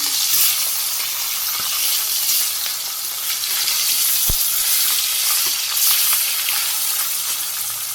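Fish frying in hot oil in a Bangladeshi home kitchen, a loud, continuous close sizzle and hiss that holds steady throughout with one brief knock partway through.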